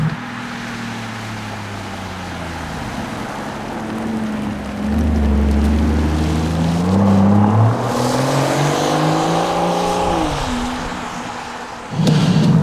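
The 6.75-litre V12 engine of a widebody Rolls-Royce Cullinan Series II by Spofec idles deeply, then revs up smoothly and climbs in pitch before settling, loud and close, with a brief burst at the end.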